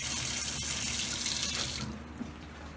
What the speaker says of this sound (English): We got running water.